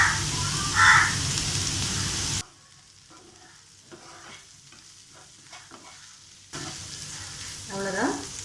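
Cauliflower chilli fry sizzles in a pan with spatula stirring, loud at the start, dropping to a quiet stretch of faint clinks, then returning to a frying hiss.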